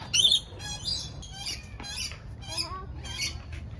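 Birds in an aviary that includes toco toucans squawk in sharp, raspy calls, several overlapping bursts spread across a few seconds at moderate distance with quiet room noise beneath.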